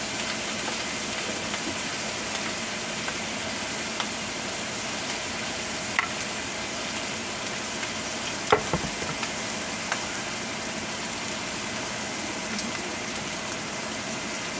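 Shrimp sizzle in a pan with a steady close crackle, with a couple of soft knocks and a brief utensil scrape partway through, and no voices.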